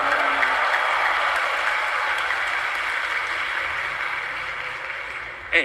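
Broad, steady applause from an audience in a university mosque, sustained for several seconds and tapering slightly at the end.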